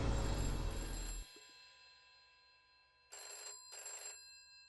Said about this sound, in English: Danny received the phone call of a lifetime.